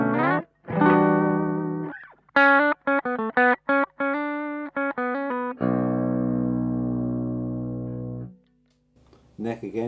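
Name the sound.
Chapman ML1 baritone electric guitar, bridge pickup, breaking-up amp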